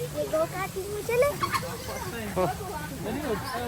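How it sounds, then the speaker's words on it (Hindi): Chickens cluck and chatter in a backyard pen, several birds heard close by in short, overlapping bursts over a low outdoor background. "ये मुर्गियाँ शुर्गियाँ तक रखी हुई हैं"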